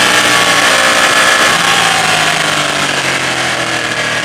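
A Ducati 899 Panigale motorcycle engine on the road, loud and close, with a harsh, rasping roar that climbs and then eases slightly in pitch amid wind rush.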